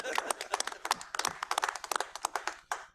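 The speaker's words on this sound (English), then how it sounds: "Clap here, Chair? Yeah, we are allowed to clap." Scattered hand clapping from a small audience at a county board of commissioners meeting, a quiet, uneven patter of distinct claps lasting a few seconds.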